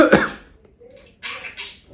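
A budgie imitates a cough: one raspy, close cough, then after a pause two thinner, higher-pitched hoarse coughs.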